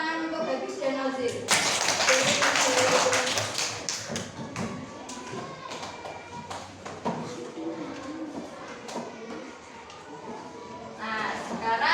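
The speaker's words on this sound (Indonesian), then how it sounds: "beri tepuk tangan untuk Habib dan Ozil" A classroom of students applauds two classmates, Habib and Ozil. The clapping is loud and dense, bursts in around two seconds, goes on for several seconds, then thins to scattered claps with some bumps and thuds. A second brief round of clapping comes near the end.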